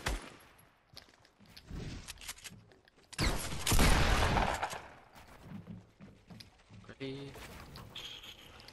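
Video game gunfire crackles in bursts, loudest and densest in the middle of the clip, with voices talking throughout.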